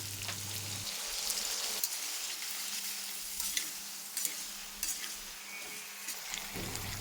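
Hot water goes into a sizzling chickpea masala: a low background hum cuts out as a strong, steady sizzling hiss takes over, broken by small pops and spoon scrapes, with no talking.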